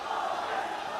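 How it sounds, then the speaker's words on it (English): Crowd roaring and cheering at a semi-pro MMA fight, a dense, steady wash of many voices filling the whole moment without a break. "The crowd is going crazy for Toki since he's a"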